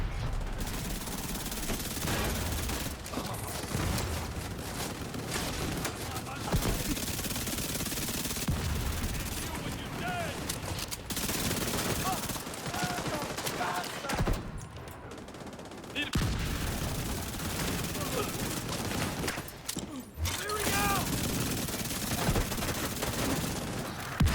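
Heroic-difficulty firefights in The Division bring sustained bursts of automatic gunfire and rapid shots, layered and dense, rattling almost without pause across the clip with brief lulls.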